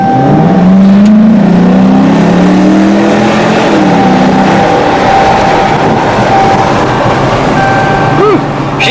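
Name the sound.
Dodge Challenger Shaker accelerating on test drive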